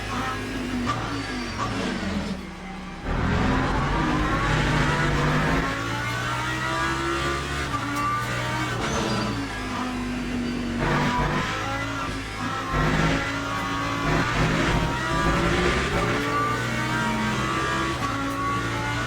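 Race car engines roaring around the Le Mans circuit in the sim racing game Le Mans Ultimate, loud and continuous with rising and falling revs, gear shifts and other cars passing close by.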